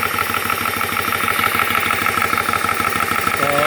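An 18V GX PCP air pump, rated to 4600 psi, runs steadily with a loud, even motor drone and a fast rhythmic pulsing throughout, close up and with no talk.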